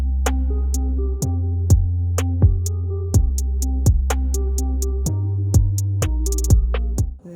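A looped drum pattern with crisp, ticking hi-hat hits over a deep booming bass and kick, steady and fairly loud, with no voices.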